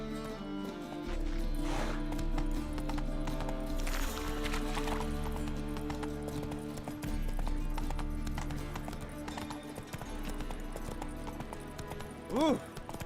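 Roach, Geralt's horse in The Witcher 3, gallops with steady clip-clop hoofbeats over game music, and a short neigh rises near the end.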